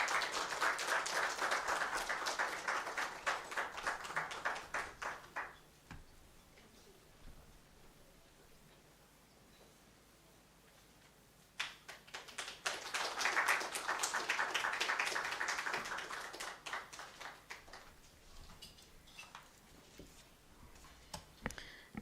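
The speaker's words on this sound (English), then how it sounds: "another round of applause for the Honorable Justice" An indoor audience at a legal book launch applauds after a keynote address. Two long bursts of dense clapping are separated by a quieter lull in the middle.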